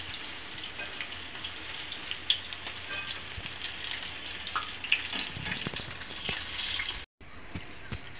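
Chicken pakoras deep-frying in hot oil, a continuous dense crackling sizzle with scattered pops, close and steady, briefly cut out near the end.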